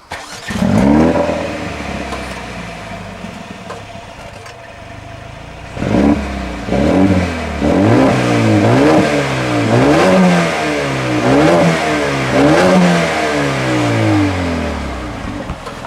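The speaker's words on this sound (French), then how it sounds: "tu vas nous démarrer le véhicule, tu vas nous faire quelques petits rupteurs juste pour qu'on voit ce que ça donne" A Mercedes A35 AMG engine is revved hard several times to its rev limiter, giving a loud series of rising, cut-off bursts that follow an opening rev and a brief lull.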